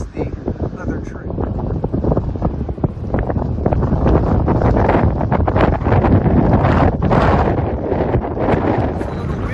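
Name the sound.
wind on coastal trail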